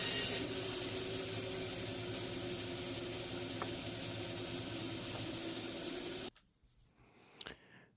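A field corn cob is sawn to length for a fishing popper lure, with a steady, close, rasping scrape for about six seconds that stops abruptly, followed by quiet with a couple of brief knocks.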